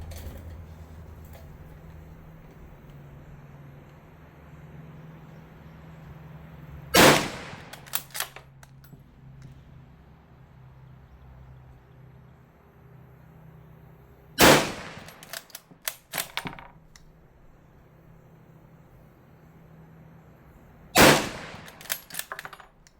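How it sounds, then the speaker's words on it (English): Czech Vz 98/22 bolt-action rifle in 8x57mm fired three times, each sharp, loud report spaced several seconds apart and followed by a brief burst of clattering bolt and mechanism noise, with quiet background between shots. "Now let's actually run the gun, shall we?"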